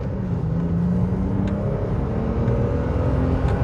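A BMW E34 535i engine drones steadily at low pitch, a continuous rumble heard from inside the car while driving at around 50 to 60 mph, with no voices.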